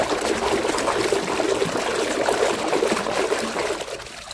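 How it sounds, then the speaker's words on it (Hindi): A toy tipper truck is dunked and washed in water, giving a steady close splashing and trickling that fades slightly at the end, with no voices. "चलो इसको पानी में डुबा के धोना पड़ेगा बच्चों।"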